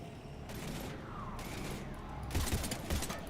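Gunfire in Mass Effect Legendary Edition comes as bursts of rapid shots, moderately distant and blended with battle noise, growing denser and louder toward the end.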